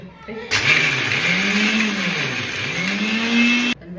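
An electric mixer grinder runs loud and steady for about three seconds, grinding dates finely for date and dry-fruit laddu, its motor whine rising and dipping slightly before cutting off abruptly.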